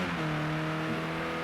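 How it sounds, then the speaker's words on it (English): Race cars at Oulton Park in a BTCC sim race hold a steady engine drone, a continuous mid-distance whine that never lets up. "you can hear the other cars"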